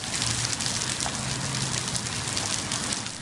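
Steady rain falling during a summer thunderstorm in West Virginia, a dense, even hiss of drops pattering on surfaces, loud and close, continuing without a break.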